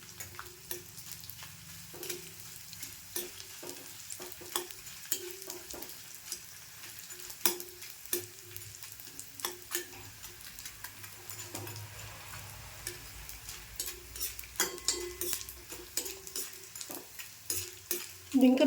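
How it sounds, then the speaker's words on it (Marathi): Edible gum (dink) frying and puffing up in a pan for green moong and jaggery laddoos, a steady close sizzle broken by frequent sharp crackles and stirring clicks, with no talking. "डिंक फुलतो ना असा हो, भाजला."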